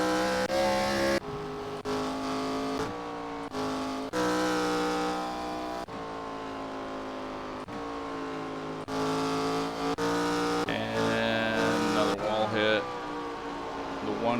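NASCAR Gen 4 race cars in iRacing at The Rock oval: several high-revving engines drone and whine, with pitches sliding up and down as cars pass and overlap, broken by sudden cuts between views.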